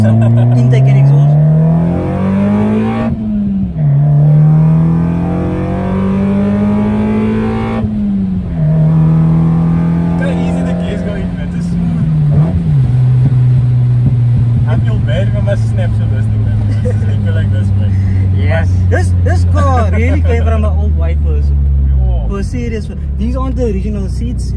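A Toyota Corolla AE92 with a 7AFE engine and individual throttle bodies growls continuously at low revs while driving slowly, its steady deep drone shifting pitch with throttle changes, loud and close, with a person talking over it.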